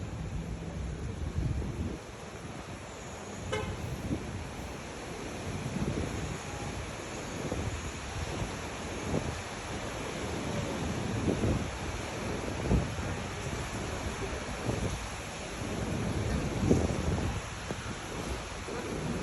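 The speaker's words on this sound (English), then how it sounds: "we're still getting some, from what I can tell, pretty good rain and pretty good wind" Rain and wind blow through a severe thunderstorm in Akron, Ohio, heard as a fairly faint, continuous rushing wash with gusty swells and occasional buffeting thumps on the microphone.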